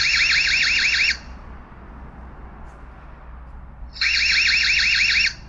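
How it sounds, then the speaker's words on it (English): The siren of an EZVIZ CB90 camera is set off manually, a loud, warbling electronic wail that sounds in two bursts of about a second each with a quiet pause between them. "an alarm button to manually set off the alarm"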